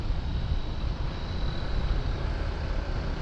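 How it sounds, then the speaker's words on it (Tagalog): Strong wind roars steadily across an open road, a continuous broadband rush of gusting air buffeting the microphone of a moving motorcycle rider, with no voices. "Medyo lakas ang hangin mga kabiyahe."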